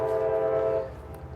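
Train passing by trackside with a loud, steady horn blast over the low rumble of the rail cars, the horn cutting off partway while the rolling noise continues.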